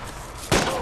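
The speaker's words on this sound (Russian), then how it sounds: "Я слышу выстрелы." Gunfire in the survival video game DayZ: a loud, sharp burst of shots cracks in abruptly after a stretch of quieter background sound, close and forceful.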